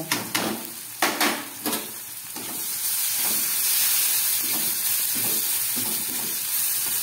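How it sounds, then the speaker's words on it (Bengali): Tomatoes and green chillies sizzle in hot oil tempered with nigella seeds, a steady close frying hiss with a few clatters of stirring and pan contact early on. "কালো জিরে ফোড়ন দিয়ে টমেটো আর কাঁচা লঙ্কাটাকে খুব ভালোভাবে আমি ভেজে নিচ্ছি"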